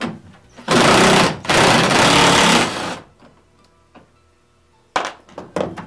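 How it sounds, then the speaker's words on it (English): A power tool fitted with a T40 bit and 13 mm socket drives out rear strut hardware on a Club Car Precedent golf cart, two loud sustained whirring bursts followed by quieter clicks and a final short run of tool bursts. "Now we're going to use a T40 bit and a 13 millimeter socket and remove our rear strut hardware"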